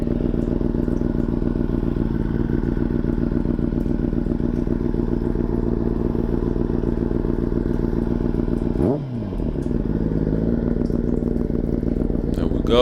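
A motorcycle engine runs at a loud, steady idle close by, its rhythmic rumble dipping briefly near the end before settling back, with a person talking over it.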